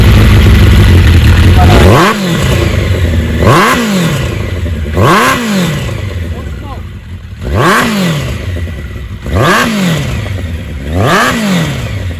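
A 1992 Suzuki GSX1100S motorcycle engine runs loud and close, revving up and falling back in about six rhythmic swells over a rough idle clatter.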